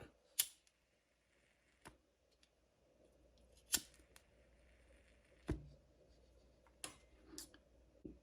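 Scissors snip the tag ends of archery bow string around a peep sight, a few faint sharp clicks spaced across quiet background, close but soft.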